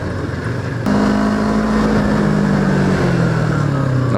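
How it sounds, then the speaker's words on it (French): A CFMoto 400NK motorcycle engine drones steadily while riding, with a low hum that shifts slightly in pitch as it cruises along. "c'est une moto qui est très très souple à l'utilisation"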